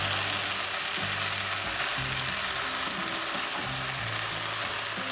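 Goulash frying and being stirred in a pan, a steady close sizzle with soft scraping movements throughout, no talking.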